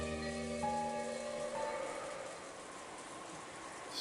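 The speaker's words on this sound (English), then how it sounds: "In this silence, the sound of rain snuck into the dining hall." Rain patters in a visual novel game, a soft, even wash of drops heard behind sustained musical tones that fade partway through, fairly quiet and with no voices.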